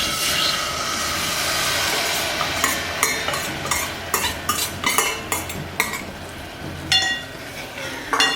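Masala hits hot oil for a spicy Kolhapuri tambda rassa, giving a steady sizzling hiss broken by repeated metallic clinks of a spoon stirring in the pan, with no talk.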